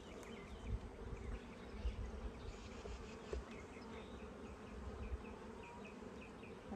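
Bees buzz steadily inside a wooden hive box during a hive inspection, a faint, close drone with scattered low knocks and handling bumps, no voices.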